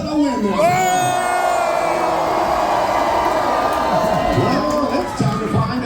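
A crowd cheers and whoops steadily and loudly at the Great Alaskan Lumberjack Show competition in Ketchikan, Alaska, as Spruce Mill and Dawson Creek teams prepare, with a continuous roar of voices and shouting.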